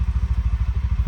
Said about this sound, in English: There's that shifter issue.